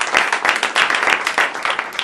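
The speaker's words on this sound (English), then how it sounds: "please join me in a round of applause for this outstanding talk." An audience applauds after a talk on biofuels, dense steady clapping from many hands lasting a couple of seconds.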